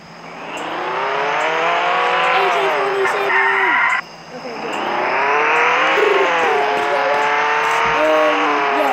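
Video game car engine droning steadily, rising and falling in pitch as it accelerates and revs, loud and close, with a brief dip midway and people talking over it.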